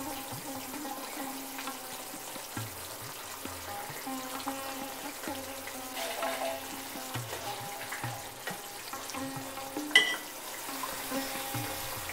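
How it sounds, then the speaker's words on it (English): A soft, steady bubbling and sizzling simmer from a pot of hilsa fish curry with vegetables, low and close, with a few light clinks partway through. "So it's now boiling"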